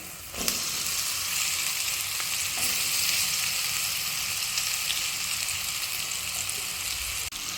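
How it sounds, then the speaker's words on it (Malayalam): Cooked breadfruit sizzles and fries in a pan with coconut pieces for a Kerala-style upperi, a steady dense crackle throughout with a few sharp clicks of stirring, close and loud, no talking. "ഇനി നമുക്ക് വേവിച്ച് വെച്ച കടച്ചക്ക ഇട്ട് കൊടുക്കാം."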